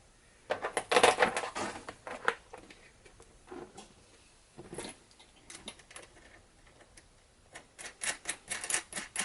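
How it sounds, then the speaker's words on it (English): Standard metal bolts drop one after another into a homemade acrylic sandblaster, giving sharp, quiet clinks and rattles in uneven bursts with short pauses between. "So at this point we just drop in our bolts"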